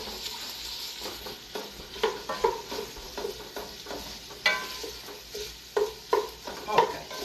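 A big spoon stirs a pot of French lentil soup with sausage and caramelized onions, giving rhythmic scraping knocks against the pot over a soft sizzle, close by.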